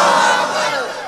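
A large crowd at a Bangla religious sermon roars a loud, unified chanted response of the Naraye Takbir cry, a sustained massed shout that fades slightly toward the end.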